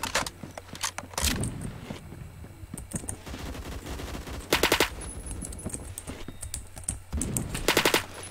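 An AK-12 in the Roblox game Phantom Forces fires in several loud automatic bursts, short rattling volleys separated by pauses with quieter game noise between them.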